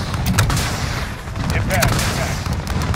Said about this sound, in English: Guns, guns, guns. Still firing, still firing. Missiles away, missiles away.